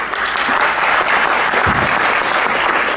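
Workshop audience at a Dust or Magic institute gives a round of applause after a product demo, loud, thick clapping from a full room, steady throughout with a brief low thump partway.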